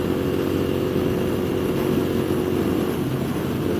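A 2015 Moto Guzzi V7 mk2 750cc motorcycle engine drones steadily while riding as it shifts up through the gears, a constant loud near rumble with subtle changes in pitch.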